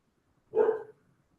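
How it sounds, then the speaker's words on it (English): A single short dog bark sounds at moderate distance, brief and alone against near silence. "The show's going to the dogs."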